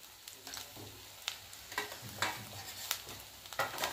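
Ground spices such as turmeric, cumin and garam masala roasting in a pan for a drumstick and potato vegetable dish, with a soft steady sizzle and repeated light stirring scrapes close by.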